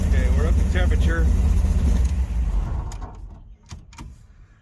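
The engine of the Jezebel Dodge Charger rumbles low and steady after its first fire, strongest at first and then fading, while a voice speaks briefly over it, followed by a few sharp clicks.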